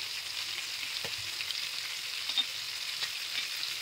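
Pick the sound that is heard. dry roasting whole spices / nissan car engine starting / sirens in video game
dry roasting whole spices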